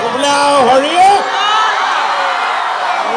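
An audience at a stage show shouts, whoops and cheers in a loud, continuous crowd roar, with a single voice rising briefly near the start.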